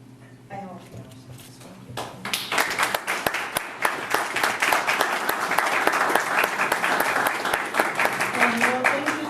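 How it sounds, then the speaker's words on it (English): An audience breaks into loud, sustained applause at a community gathering, the clapping swelling and holding dense and steady after a few scattered opening claps. "thank you for the great clap that, thank you to all of you"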